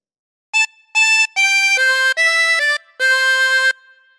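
A 24-hole tremolo harmonica plays a short phrase of Jesus Loves Me. Clear, reedy, wavering notes come one after another, some held longer, close up with no talking.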